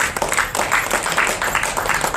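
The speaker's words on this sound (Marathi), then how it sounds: "चला टाळ्या वाजवा." Crowd clapping at a protest over a gas shortage outside a district collector's office, a rough, uneven patter of many hands with rhythmic surges, fairly close and loud.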